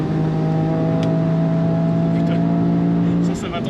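A GT3 race car approaches on a circuit, its engine a loud sustained droning tone heard from inside a Toyota Yaris GR, steady then dropping off as it passes.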